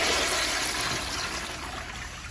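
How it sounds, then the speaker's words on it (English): A 2004 American Standard Afwall toilet flushes with two rags in the bowl, a loud rushing surge of water that starts strong and slowly tapers into a steady draining swirl, with no talking. "here's a flush with the 2 rags"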